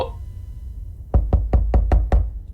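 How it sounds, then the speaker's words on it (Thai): Six quick, evenly spaced knocks rap on a glass window in a video game, sharp and close, following a stretch of near quiet. "เสียงใครมาเคาะกระจก"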